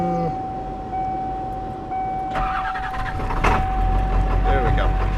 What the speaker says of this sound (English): Waiting for the truck to start.